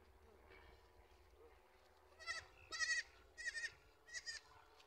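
Several goats bleat in a run of four wavering calls, fairly close, over a quiet outdoor background with faint voices earlier.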